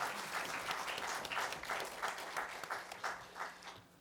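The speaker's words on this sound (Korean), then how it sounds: "하나님께 영광의 박수 올리겠습니다." A church congregation gives a round of applause during a Sunday service, a steady wash of many hands clapping at moderate distance, fading slightly toward the end.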